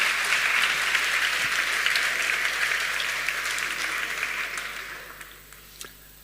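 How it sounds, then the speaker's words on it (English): Applause from a conference audience welcoming a speaker on stage, a dense, steady wash of many hands that holds for several seconds, then thins and fades toward the end with a few last claps. "Give a big round of applause to Marc"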